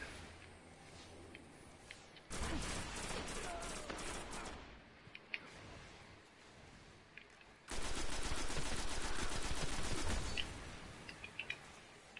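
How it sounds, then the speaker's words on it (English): Two long sustained bursts of rapid automatic assault rifle fire in Destiny's Crucible multiplayer, each lasting several seconds, separated by quieter stretches with a few isolated sharp shots, all loud and close. "this assault rifle's not working for me"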